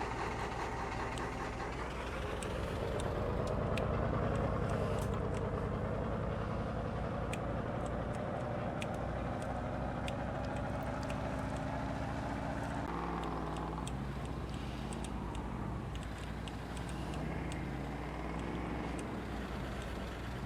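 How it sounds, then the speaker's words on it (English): A truck hauls a car strapped onto a trailer past roadside billboards. Its engine drones steadily and continuously from inside the cab, with a shift in tone partway through and no talking. "Look at us hauling this car past all these billboards."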